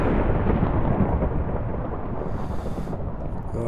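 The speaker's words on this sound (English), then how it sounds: "Oh god, I don't like this lightning." Video game thunder during a storm, a loud, sustained rolling rumble that fills the whole moment with no voices.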